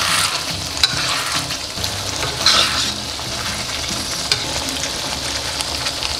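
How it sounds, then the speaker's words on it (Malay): Potatoes sizzle and crackle loudly in hot oil, a continuous bright hiss with occasional pops and stirring scrapes, no voices. "Goreng kentang."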